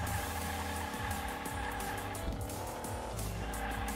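Toy-car racing game audio from Hot Wheels Unleashed with a drifting car, a dense continuous roar of engine and tire squeal layered with game music, loud and unbroken throughout.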